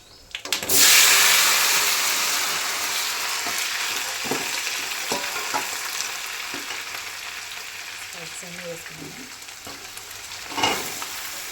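Onion, green chillies, tomato, potato, beans, capsicum and carrot for a vegetable biryani hit hot oil with a loud burst of sizzle that settles into a steady fry, with a few stirring scrapes and one louder hiss near the end, no talking.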